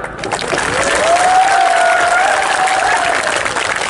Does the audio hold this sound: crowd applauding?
yes